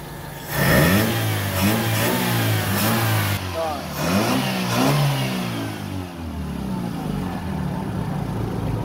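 A Toyota Vios engine, freshly overhauled after oil sludge, runs close by and revs up and down in several rising and falling surges before settling toward idle, with someone speaking over it.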